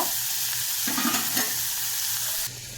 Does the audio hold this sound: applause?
no